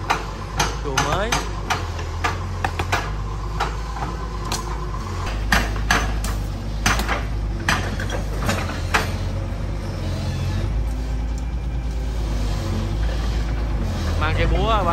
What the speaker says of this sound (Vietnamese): Mang cái búa bắn bê tông các bạn.